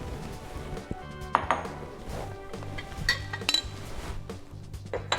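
A cup of cashews clatters and clinks into a blender jar, a scattered rattle of tiny impacts with faint kitchen clatter behind, no talking.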